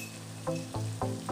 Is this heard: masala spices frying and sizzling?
yes